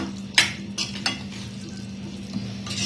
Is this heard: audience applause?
no